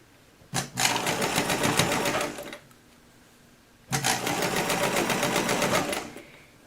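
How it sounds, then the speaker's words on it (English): A sewing machine stitches sculpted costume animal feet in two steady bursts of about two seconds each, separated by a short pause, running close and loud on its own. "I like to sew again on the inside so I can keep this out of my way"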